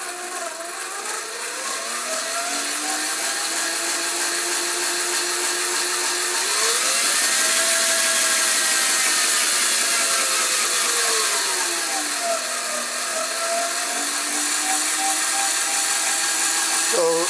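An 18-volt electric motor in a shredder for 3D-printed parts runs continuously close by, a steady whine that rises in pitch midway and then falls back, with no talk over it.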